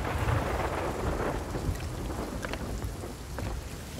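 Heavy rain and a rumbling thunderstorm at sea in the pirate video game Sea of Thieves make a dense, continuous roar of falling water with deep low rumble underneath, steady throughout.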